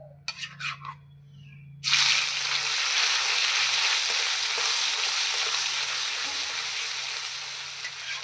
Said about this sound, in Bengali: ঘিয়ের মধ্যে ভাজতে হবে লাউটাকে, ঘি ছাড়া হবে না